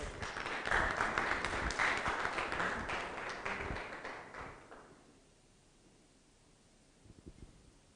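Audience applause for a presenter at a forum on AI and human intelligence, a dense wash of clapping that holds loud for about four seconds, then fades out, leaving quiet room tone with a brief rustle near the end.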